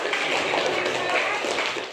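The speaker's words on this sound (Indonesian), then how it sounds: "beri tepuk tangan untuk teman-teman" Classroom students clap together in a dense, steady burst of applause that holds for about two seconds before tapering off.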